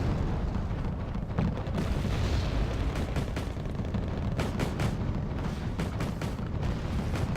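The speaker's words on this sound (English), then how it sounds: "Commando is just getting auto-cannoned." Autocannon fire in a Dutch-faction World War II strategy game: dense, continuous battle noise with repeated rapid booms and bursts of cannon shots, loud and close throughout.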